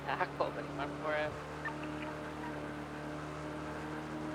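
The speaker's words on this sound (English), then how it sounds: "This car's so slow, man." A car engine in GTA NoPixel drones as a steady, low, humming tone beneath brief talk at the start, then continues alone at an even pitch.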